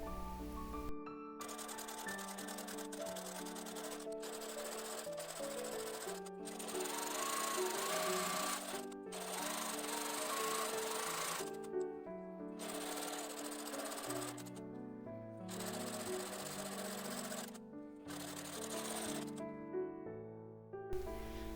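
Sewing machine stitching a seam on a yoke tunic dress, a steady rapid mechanical chatter running in several long bursts with brief pauses between, close and fairly loud with no talking.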